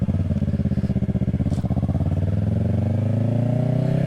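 A Yamaha R3 sport motorcycle fitted with a bigger rear tire is ridden. Its loud, close engine drones with a buzzing pulse, and the pitch climbs smoothly as it accelerates.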